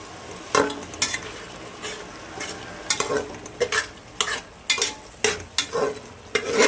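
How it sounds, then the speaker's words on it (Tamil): Tomatoes stirred in a frying pot for one-pot vegetable rice, with repeated scraping strokes of a spoon against metal over a low sizzle, close and fairly loud in an irregular rhythm, no voices. "அதனால சும்மா ஒரு பெரட்டு மட்டும் பெரட்டிக்கலாம்."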